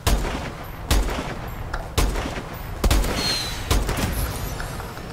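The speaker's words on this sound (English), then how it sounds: "Sniper rifle is not strong enough." Sniper rifle fire in Call of Duty Advanced Warfare: about six loud, sharp shots spaced roughly a second apart, each followed by a short decaying boom, over a steady background of game ambience.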